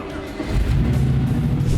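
A car carrying a ZF 8HP transmission starts up on a lift, its engine catching and settling into a deep, steady idle rumble close by, lasting under two seconds.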